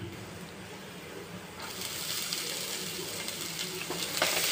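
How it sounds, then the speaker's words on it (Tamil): Onions and ginger sauté in a pan for chana masala, a moderate sizzle that swells and brightens partway through as stirring continues, steady and close without speech. "நல்லா வதக்கி விட்டுக்கலாம் அடுத்தது வெங்காயம் சேர்த்துக்கலாம்"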